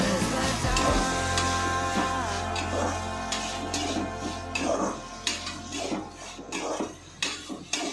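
Ingredients for khichdi sizzle and fry in a pan, with a steady close crackle broken by clinks of a spoon or ladle stirring against the metal and a low hum underneath.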